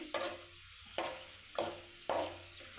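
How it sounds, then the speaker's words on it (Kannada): Peanuts frying in a pan for lemon rice: a soft continuous sizzle broken by four regular scraping stirs, close and fairly quiet, with no voices. "ಕಡಲೆ ಬೀಜ ಕಲರ್ ಸ್ವಲ್ಪ ಚೇಂಜ್ ಆಗೋವರೆಗೂ ಸ್ವಲ್ಪ ಫ್ರೈ ಮಾಡಿಕೊಡಿ"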